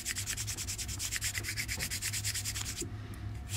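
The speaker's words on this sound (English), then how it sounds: "once you get the cross sanding done, you can smooth it by going your regular back and forth" Rapid, steady back-and-forth hand sanding of a plastic model kit stand, close and loud, a rhythmic scratchy rasp that stops just before the end.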